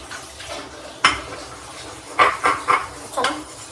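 Pots and dishes being hand-washed in a home kitchen clatter in a handful of sharp metallic clinks, one early and a quick cluster later on, with no talking.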